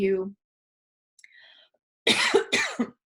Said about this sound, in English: as I'm talking about that, I have to cough